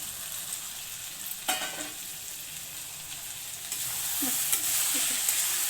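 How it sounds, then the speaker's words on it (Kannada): Okra being added to a pan of tomato and fried, a steady sizzle with scraping stir strokes throughout that grows somewhat louder toward the end, with no voices. "ಈಗ ನನಗೆ ಬೆಂಡೆಕಾಯಿ ಸೇರಿಸ್ತಾ ಇದ್ದೀನಿ ನೋಡಿ."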